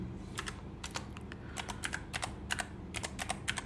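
Rapid typing of C code on a computer keyboard, a steady run of crisp key clicks in irregular bursts, close and clear with no talking.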